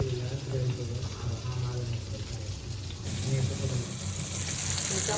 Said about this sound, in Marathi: मस्त आता ठेवले आहेत फ्राय करायला